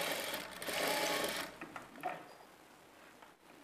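Sewing machine stitching a straight-cut blouse, running loud and steady for about a second and a half, then slowing into quieter, intermittent stitching.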